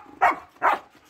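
A Malinois dog, one of a litter of young pups, gives two sharp close barks in quick succession, loud against an otherwise quiet background.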